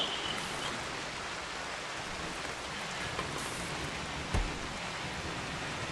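Steady rain in the colony-building game RimWorld: an even, dense hiss of falling rain with no let-up and one soft thump near the end, with no voices.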